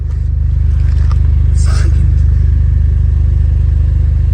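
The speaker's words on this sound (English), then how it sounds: "Factory Mugen exhaust." A 2008 Honda Civic Mugen Si idles through its factory Mugen exhaust, giving a loud, steady, deep pulsing rumble that holds unchanged throughout at close range.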